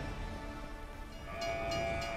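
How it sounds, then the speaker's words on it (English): A train rumbles past in the Call of Duty Cold War zombies mode, a loud continuous roar with a sustained horn-like tone rising over the rattling rail noise. "I hope you are smart enough to avoid being hit by a train."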